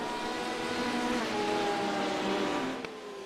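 Race car engines droning steadily at Silverstone in an endurance racing video game, a dense continuous whine with shifting tones as cars run together, briefly dipping near the end.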